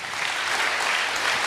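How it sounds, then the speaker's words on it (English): Dense applause from an audience at a startup pitch competition, a steady wash of many hands clapping close and loud throughout with no gaps. "Big applause. Big applause."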